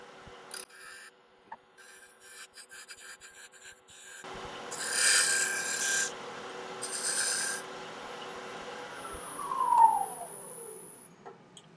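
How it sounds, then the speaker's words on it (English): A wooden tenon is shaped with hand tools: close, quiet rasping and rubbing strokes, short and rhythmic at first, then longer filing passes, with no talk. "So now we're just going to form the tenon."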